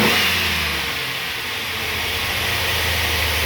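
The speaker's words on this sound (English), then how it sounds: "But let's give it some revs." A Chevrolet Silverado pickup engine with a cold air intake revs up steadily from idle, a loud, sustained roar that rises and then settles back down.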